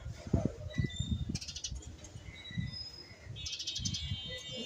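Small bird chirps come in short, thin bursts over soft indoor rustling and shuffling nearby, fairly faint, with no clear talk.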